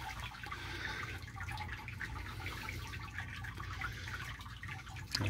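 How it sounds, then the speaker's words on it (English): Water drains through the malt pipe screen of a Robobrew Brewzilla into the kettle during a Kolsch brew, a soft steady trickle and patter of falling liquid, fairly quiet and without talk. "You can see the water is draining through the chop screen into the kettle."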